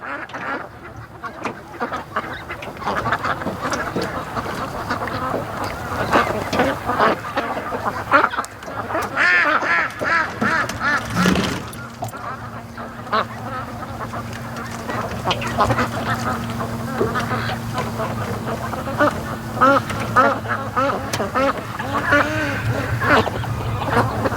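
Ducks quacking repeatedly over a steady outdoor background on a muddy lake, several birds calling at a moderate distance throughout.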